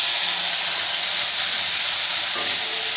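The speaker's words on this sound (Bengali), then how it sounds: "সেই মশলাটাকে আমি তেলের মধ্যে দিয়ে দেবো।" Ground spice paste of onion, ginger, garlic, cumin and cinnamon sizzling in hot oil for a Bengali katla fish curry, a steady loud hiss that runs unbroken throughout.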